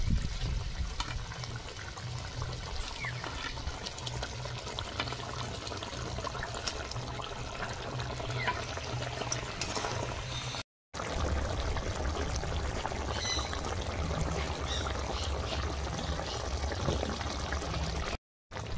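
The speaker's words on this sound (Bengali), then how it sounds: "পার্শে মাছের তেল ঝাল হয়ে গেছে, ঢেলে নেব।" Pomfret fish curry cooked in a spicy mustard-oil gravy is poured out of a pan. The liquid makes a continuous, fairly quiet streaming pour with only brief gaps.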